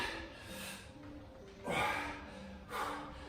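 Three heavy breaths, each a broad rushing whoosh of air, slow and close, with a steady hum running underneath.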